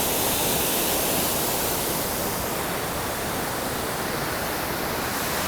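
A cascading river rapid on a Pacific Crest Trail section in Washington, a dense, continuous roar of rushing water, loud and close, steady throughout with no voices.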